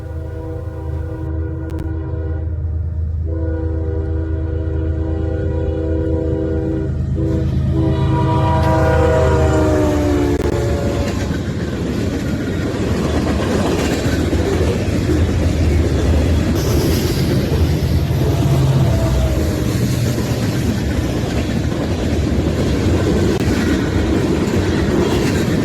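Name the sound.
CSX Q367 freight train led by KCSM ES44AC locomotive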